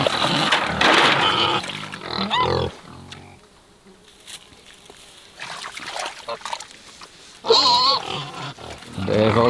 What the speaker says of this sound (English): So these here are some very happy pigs.